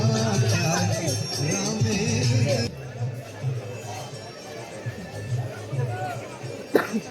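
A crowd of bathers gathers at Kashi ghat before dawn, a busy murmur of many voices under a nearer person talking, with occasional louder calls and shuffling.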